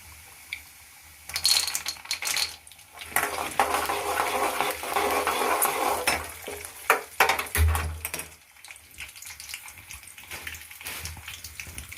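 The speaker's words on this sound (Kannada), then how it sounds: "ಕಡಲೆ ಬೀಜ ಹಾಕಾದ್ಮೇಲೆ ಇದೊಂದು ಸ್ವಲ್ಪ ಫ್ರೈ ಆಗಬೇಕು" Peanuts with chana dal and urad dal frying in a pan for raw mango chitranna, a broad crackling sizzle that rises after a quiet start, runs steadily for several seconds with stirring clatter, then fades to faint scattered ticks.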